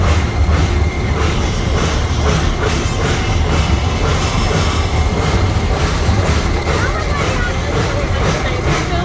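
A zoo train at Henry Doorly Zoo in Omaha, Nebraska rolls along its rails with a steady, continuous rumble and rattle of wheels and cars, close and loud throughout with no clear pauses.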